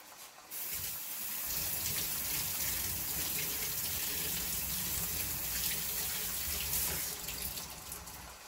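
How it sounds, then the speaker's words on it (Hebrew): Tap water runs steadily over rolled matzah with a chicken shawarma and onion filling in a home kitchen, a continuous close splashing gush into the sink with no talk. "את כולם אני פשוט לוקחת, מרטיבה מתחת מי ברז"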